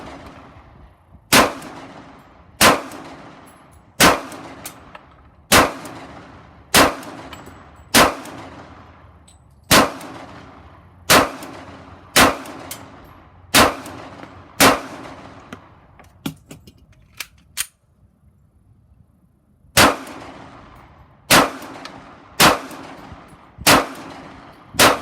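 A Sig Sauer Pro SP2022 pistol fires at a shooting range, loud sharp cracks evenly spaced about every second and a half, a run of ten, a pause, then four more shots.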